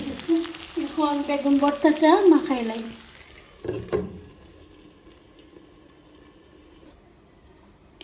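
Eggplant slices frying in a pan for a Bengali eggplant dish, a loud crackling sizzle with stirring for about three seconds, then a sharp clatter before the sizzle fades to a faint background hiss.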